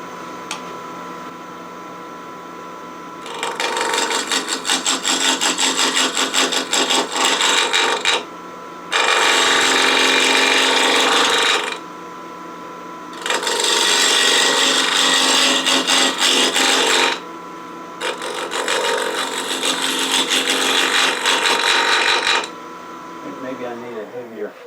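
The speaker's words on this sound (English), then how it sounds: "Maybe I need a heavier duty gouge than this, but it's cutting away just fine." A bowl gouge scrapes and cuts a Jarrah wood bowl spinning on a wood lathe, in four loud sustained rasping passes separated by short gaps, over the steady hum of the lathe motor.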